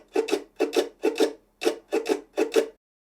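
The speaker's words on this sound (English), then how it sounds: "I'll often play the rhythm on muted strings just to keep time," Ukulele strummed on muted strings to keep time, with six short percussive scratchy double strums at a steady pulse, dry and close, then silence.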